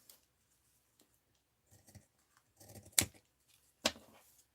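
Scissors cut through thick art journal paper in a few separate snips, quiet and close, with the two sharpest cuts about a second apart near the end and soft paper rustles between them.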